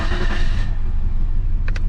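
A Nissan Skyline R31 TI, neglected and freshly washed, starts up with a loud burst of engine noise that settles into a steady, close idle.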